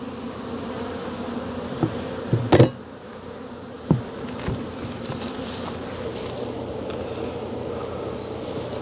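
Honey bees buzz steadily in a dense, close drone during a hive cutout, broken by a couple of sharp knocks and scrapes from handling the comb, with no talk.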